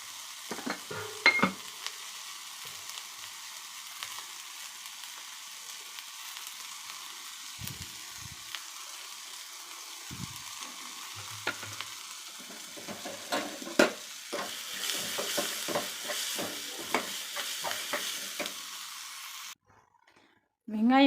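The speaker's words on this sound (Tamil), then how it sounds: "வெங்காயம் வதங்கிடுச்சு, எடுத்துட்டு பணியாரக்கல் வைக்கலாம்." Chopped onions with a little salt sautéing in a pan for millet kuzhi paniyaram chutney: a soft, steady sizzle with scattered stirring scrapes and clicks that grow busier toward the end, then a brief silence.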